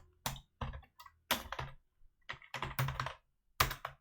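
Fingers type on a computer keyboard in short bursts of crisp clicks separated by brief pauses, close and clear with no talking.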